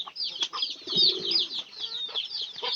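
Chickens clucking and pigeons cooing up close during feeding, a busy mix of short clucks, soft coos and chirps with no pauses.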